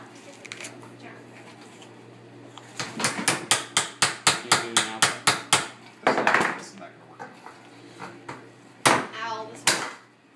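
A hammer strikes a coconut in a rapid run of about a dozen sharp, hard knocks, followed by a few heavier cracking blows, with people talking nearby.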